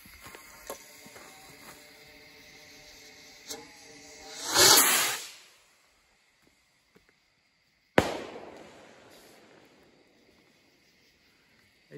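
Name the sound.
homemade bottle rockets being fired off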